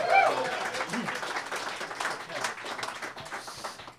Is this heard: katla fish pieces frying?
no